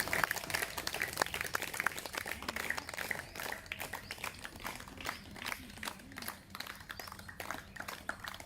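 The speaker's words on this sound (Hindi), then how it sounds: "जोरदार तालियां प्लीज" Sustained crowd applause at a yoga training camp, many hands clapping densely and steadily for several seconds, fairly close and loud throughout, with no speech over it.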